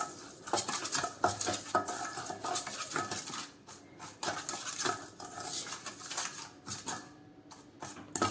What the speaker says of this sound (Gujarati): હવે આપણે મસાલાને મિક્સ કરી લઈએ